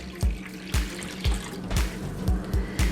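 Hot water poured into a large mixing bowl while making French bread, heard as a steady close running pour with a few soft splashy bursts recurring through the pour.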